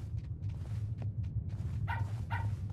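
Dogs in the horror video game Pacify, set in woods, give short yips and barks a few times over a steady low rumbling game background, fairly faint and slightly distant.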